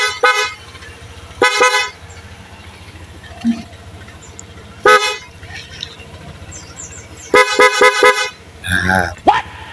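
A Honda Click 125 v2 scooter horn sounds in several short honks with gaps between them, loud and close, with a faint hum of the scooter underneath.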